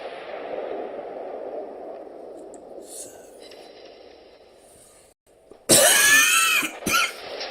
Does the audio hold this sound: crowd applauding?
no